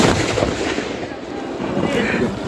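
A firecracker bursts during Tihar, giving a dense, rolling, crackling roar that fills the moment loudly and without a pause.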